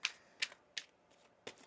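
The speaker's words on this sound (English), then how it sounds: "One more shuffle here." Tarot cards being shuffled in four crisp riffling bursts at an even rhythm, close and fairly quiet, with no voices.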